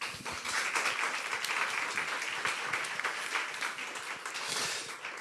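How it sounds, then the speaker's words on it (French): Audience at a primary care research conference applauds the speakers, a dense, sustained wash of clapping that stays fairly even throughout, somewhat distant in a hall. "je vous propose d'applaudir nos orateurs"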